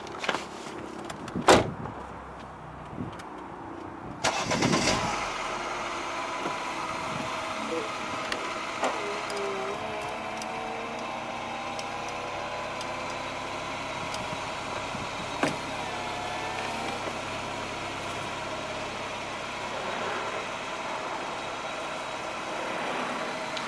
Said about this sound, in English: Let's have a look at that roof going up.